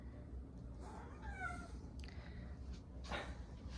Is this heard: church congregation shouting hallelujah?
no